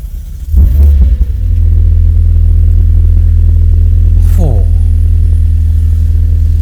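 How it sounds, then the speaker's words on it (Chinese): A 2021 McLaren 720S sports car starting up: a sharp burst as the engine fires, then a loud, close, steady idle rumble with one quick rising rev near the end. "直接 start engine"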